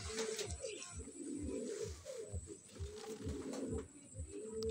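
Pigeons coo repeatedly in a steady rhythmic series of low, soft calls, close by, with faint background noise.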